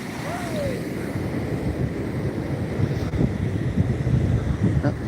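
Ocean surf at Pismo Beach rolls in as a steady, broad rush of breaking waves, heavily buffeted by wind noise on the microphone, continuous throughout.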